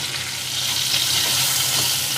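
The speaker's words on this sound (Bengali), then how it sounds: "আলুটাকে আমি লো ফ্লেমে ভেজে নেব, যাতে ভেতরটাও সিদ্ধ হয়ে যায়।" Potato pieces fry in hot oil in a pan with salt and turmeric over a low flame, giving a continuous bright sizzle that stays steady and close, with no voices.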